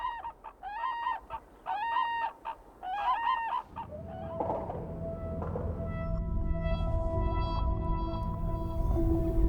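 Black-necked cranes call in several loud, repeated honking bursts, clear and fairly close, before a louder, busier mix of sound takes over.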